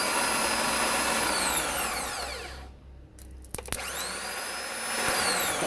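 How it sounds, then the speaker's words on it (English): The starter motor of a Toyota MR2 whirs in loud, high-pitched spinning bursts that wind up and wind down, with a short quiet gap in the middle before it spins up again, heard close and alone. "That is the starter motor."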